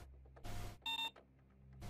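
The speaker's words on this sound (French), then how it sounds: "Et pourquoi ça fait un bip bip?" Electronic beeps in the video game Payday 2, a few short separated tones over quiet background, one bright clear beep standing out in the middle.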